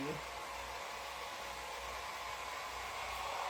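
A hair dryer on its cool shot setting blows with a steady, even rush of airflow throughout, close and fairly loud, with no pauses.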